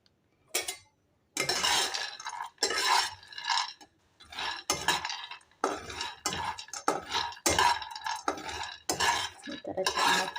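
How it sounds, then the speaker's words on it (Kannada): Peanuts for homemade shenga chikki are roasted in a pan and stirred in bursts. A utensil scrapes and rattles against the pan in rhythmic strokes with short pauses, close and fairly quiet. "ಈ ಥರ ಚೆನ್ನಾಗಿ ಫ್ರೈ ಮಾಡ್ಕೊಳ್ಳಿ."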